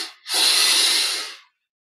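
A long, steady exhale during a guided relaxation exercise, heard close and alone, an airy breath lasting about a second before silence.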